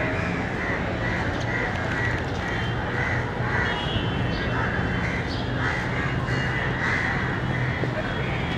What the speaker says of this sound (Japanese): カラスがいます。